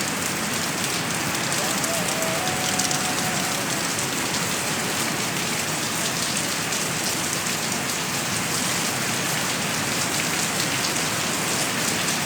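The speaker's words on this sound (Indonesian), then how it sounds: "hujannya makin gede anjir" Heavy rain pouring down at a public cemetery, a dense, steady roar of drops hitting surfaces without a break, with faint voices underneath.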